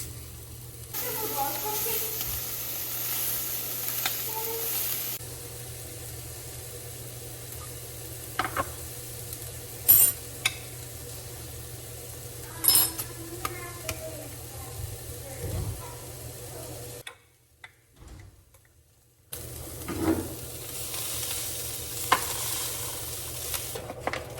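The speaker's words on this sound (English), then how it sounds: "I'm going to add 8 ounces of cooked ground beef to this pan" Cooked ground beef warming in a frying pan: soft sizzling with scattered spatula scrapes and clinks, a brief silent gap midway, and bits of speech mixed in.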